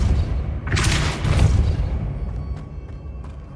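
The Depulso force-push spell cast in Hogwarts Legacy lands as a sudden booming whoosh with a thudding impact, followed by fading rumble and a few faint clicks.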